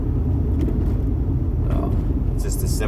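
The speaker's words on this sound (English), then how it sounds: "Just a semi-truck going real slow, taking a turn." A semi-truck moves slowly through a turn with a deep, steady engine rumble close by.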